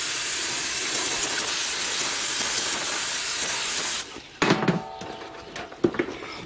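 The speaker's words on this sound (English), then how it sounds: "I'm going to clean it off with some carb cleaner" Carb cleaner sprays in a steady, loud aerosol hiss onto an exposed pad for about four seconds, then stops, followed by a few light clicks and handling knocks.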